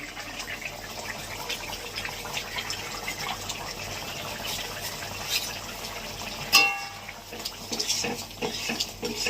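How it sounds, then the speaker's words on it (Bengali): A pot of fish curry with pointed gourd and potato bubbles at a steady simmer, a continuous watery churn with a brief clink of the pan near the end. "তরকারি ফুটছে নামিয়ে দেবো"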